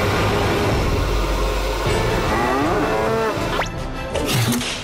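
Cattle moo loudly and close by in a farmyard, several long drawn-out lows with rising and falling pitch, one after another over a steady rumbling background, with no talk.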